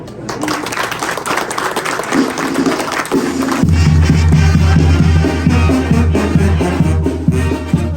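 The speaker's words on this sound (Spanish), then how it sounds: "Un aplauso." Crowd applause at a mayordomía festival for San Bartolomé Apóstol in Oaxaca, scattered clapping mixed with crowd noise, joined midway by a loud sustained low tone from music or band instruments continuing to the end.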